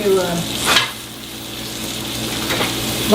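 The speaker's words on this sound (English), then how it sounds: "It's going to take us a few minutes to brown this beef." Beef browning in a pan for beef stew gives a steady, close sizzle, with a few louder scrapes and clanks from stirring near the start and end.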